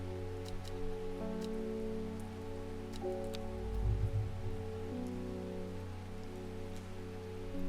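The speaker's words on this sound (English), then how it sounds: "I do want to make sure that y'all can hear the rainy ambiance" Steady rain patters as ambience in the video game Strange Horticulture, a soft even hiss with faint drip ticks over a low sustained musical drone.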